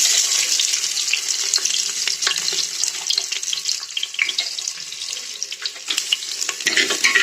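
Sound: chopped onions frying in oil

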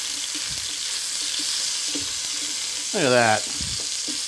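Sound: ground beef stir-frying in a wok, broken with whisk

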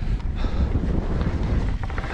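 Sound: wind on a mountain ridge

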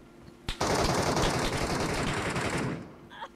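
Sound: gunfire in the video game Metro Royale

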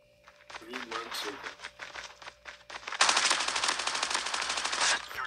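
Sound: hip-fire gunfire in a video game at Alcatraz

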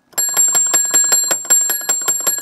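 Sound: old-time bank counter bell being rung

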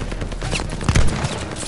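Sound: machine gun fire in video game Call of Duty Vanguard

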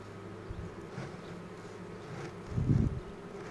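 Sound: honey bees buzzing at a hive

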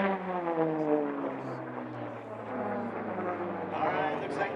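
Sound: racing propeller airplanes flying past

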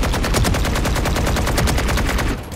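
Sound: Vandal rifle gunfire in a video game

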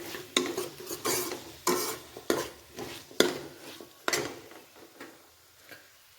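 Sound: stirring potatoes into a pan

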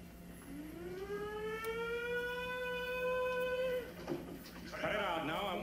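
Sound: drunk man imitating a siren

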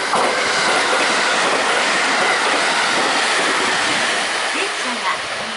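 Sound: train arriving at station

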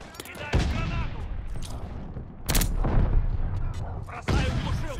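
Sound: grenade thrown and exploding in Call of Duty Vanguard video game

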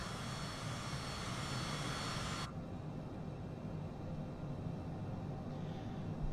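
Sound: small private jet flying

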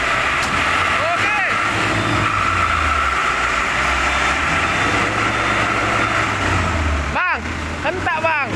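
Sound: Hino dump truck engine revving while pushing another truck

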